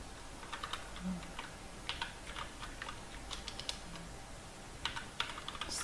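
Quick, light keystrokes tap on a computer keyboard as a macro name is entered for a Rampage SMX-R75 Striker gaming mouse, close clicks in uneven bursts with short gaps and no talking.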